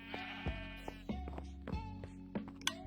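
Sheep bleating in a farming video game: several short, soft bleats repeat at a steady pace over a low, constant background tone.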